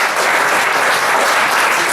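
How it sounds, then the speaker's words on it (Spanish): A Catalan-speaking audience at a talk breaks into loud, dense applause, a continuous close wash of many hands clapping at once with no voices rising above it. "Un aplaudiment."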